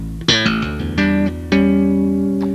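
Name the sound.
bass guitar exercise with thumb slaps, plucks and hammer-ons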